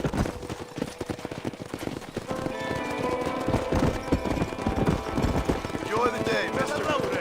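Horse hooves clip-clop in a steady galloping rhythm while riding in the video game Red Dead Redemption, with voices talking over the hoofbeats and other game sounds.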